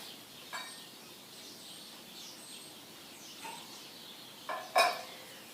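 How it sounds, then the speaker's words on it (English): Birds chirp sparsely in the morning, faint and distant over quiet ambience, with a few brief calls and one sharper, closer chirp near the end. "Can you hear the birds this morning?"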